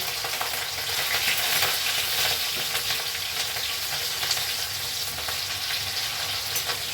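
Green chillies crackle and sizzle in hot oil in a home kitchen, a dense continuous frying hiss with sharp pops and spatters running unbroken from start to end.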